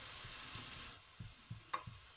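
Quiet sizzling of beef pieces browning in a small pan for carbonade flamande, a faint steady fry with a few soft pops and stirring knocks, no voice.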